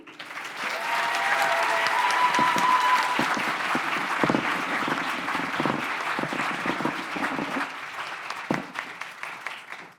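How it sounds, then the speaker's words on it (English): Audience at a 2023 graduation recognition ceremony breaks into sustained applause, a dense, even wash of clapping that holds for several seconds, then thins into scattered claps, with a faint tone sounding early on. "let's have another round of applause for all three of our truly brilliant student speakers"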